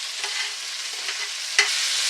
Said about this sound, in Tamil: சின்ன வெங்காயம் நல்லா பொன்னிறமாக வர்ற அளவுக்கு எண்ணெயில் வதக்கிக்கோங்க